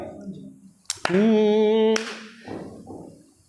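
A few sharp hand claps mark a tala rhythm, with one held sung note between them and quiet voices before and after.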